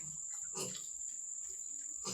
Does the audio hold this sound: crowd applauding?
no